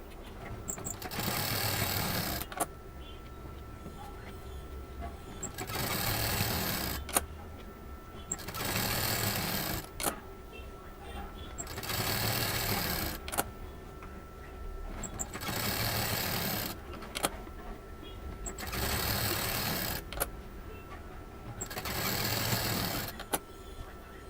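Domestic sewing machine joining printed and plain patchwork pieces, running in repeated bursts of a few seconds each separated by brief pauses, steady and fairly close.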